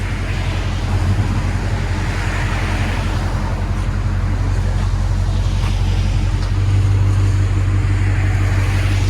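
A 2020 Dodge Charger Daytona with a 6.4L HEMI V8 and dual exhaust with the rear resonator deleted, revving loudly and close by in a deep, steady rumble that swells near the end, with no talking.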